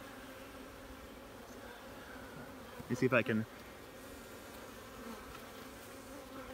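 Honey bees buzzing on a brood frame of capped brood in a newly installed temporary hive, a steady low hum with a brief louder burst of close buzzing midway, as a person speaks briefly.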